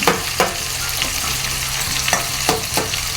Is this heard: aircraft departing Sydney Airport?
no